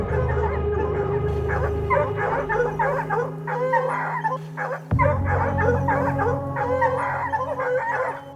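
A pack of hunting dogs barks and yips continuously, close and loud, holding a treed mountain lion in the mountains, with overlapping excited voices and whimpers throughout.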